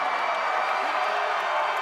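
Tennis crowd at a United Cup match cheering and applauding, a steady wash of distant crowd noise, moderately faint and continuous, with no distinct voices standing out.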